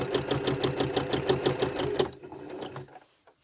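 A sewing machine runs steadily for about two seconds, stitching a teardrop cluster pattern on a quilt, its rapid needle rhythm then slowing and trailing off into quiet.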